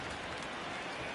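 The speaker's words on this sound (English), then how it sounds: "Really starting to pour now, and the forecast is not showing any signs of a break in the weather." Rain pouring down on a baseball field in MLB The Show 19, a dense, even hiss of steady downpour with no breaks, soft and constant.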